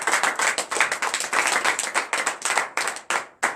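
A congregation claps in quick, uneven bursts during a Friday morning prayer service in Benin, sharp hand claps close and loud, with no talking.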